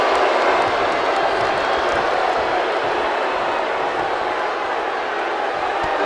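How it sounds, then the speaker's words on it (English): A raucous crowd fills a Philadelphia wrestling arena during a WWE women's match, a dense, loud, continuous roar of cheering with scattered claps and whoops throughout. "We've got a raucous crowd here in Philadelphia tonight"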